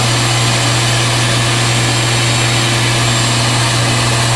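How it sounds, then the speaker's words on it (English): A bee vacuum drones loudly while sucking up bees during a hive relocation in West Palm Beach, a steady, unbroken motor roar with a strong low hum, close up and alone. "So you want to go nice and easy, vacuum them out slowly,"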